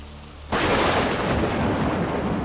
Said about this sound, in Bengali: বাইরে মনে হলো বৃষ্টি পড়ছিল